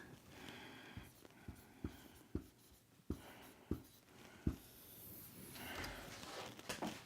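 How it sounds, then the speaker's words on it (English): A marker writes on a board in a string of short strokes and firm taps, spaced about a second apart, up close and alone. "this is the last thing I'm going to write on this board"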